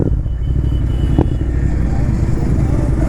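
Group motorcycle ride on a morning run toward Maredumilli with a Jawa, Pulsar, Honda Shine and Bajaj Platina, a loud steady engine drone and road rumble continuing throughout, with one brief sharp knock midway.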